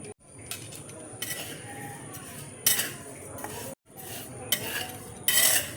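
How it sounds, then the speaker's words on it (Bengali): A spoon stirs and scrapes sugar and tea leaves melting in a wok for caramelized bhuna chai, with repeated bursts of metallic scraping and clinks separated by short gaps, fairly close. "নাড়তে নাড়তে দেখো চিনিটা দেখো কেমন মেল্ট হয়ে যাচ্ছে।"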